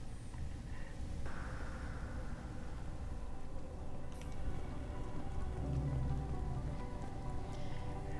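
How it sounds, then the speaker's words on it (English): Light rain falls steadily outside as a soft, faint, continuous patter, heard close and alone with no talk, while a few low rumbles and brief clatters drift in the background. "It's just been raining pretty lightly."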